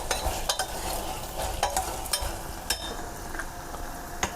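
Tomatoes with salt are stirred in a frying pan, a soft continuous sizzle broken by regular scraping clacks of the spoon against the pan, close and steady.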